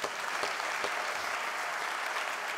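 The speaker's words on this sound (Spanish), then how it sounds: "un fuerte aplauso para eso." Audience at a forum in Burgos applauding steadily and fairly loudly, a dense, even wash of clapping that holds at constant level throughout with no talk over it.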